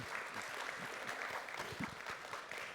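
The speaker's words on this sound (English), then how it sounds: "And can we have a big round of applause for our gracious host, Leah Waffles" A crowd claps together in sustained applause at a Pony Town online game event, a dense steady patter of many hands that holds for a few seconds.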